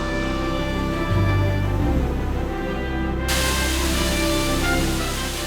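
Yongyeon waterfall roars as a loud, steady wash of rushing water, dense and unbroken throughout, with no voices over it.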